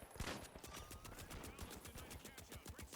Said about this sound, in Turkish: Biri bana sıkıyor taret.